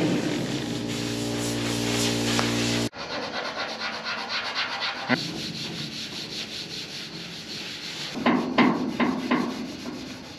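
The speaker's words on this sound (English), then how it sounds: "Let's get a 600 grit BA sander on here and see what it does." A DA sander fitted with 600 grit paper works across the paint of a Chevrolet C-10 pickup, making a steady raspy whir after a sharp cut-in, with rougher scratchy bursts near the end and no talking.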